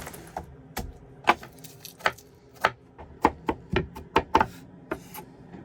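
A knife chops through an onion on a cutting board in a camper van, about a dozen crisp, uneven knocks, close and clear, with no talk.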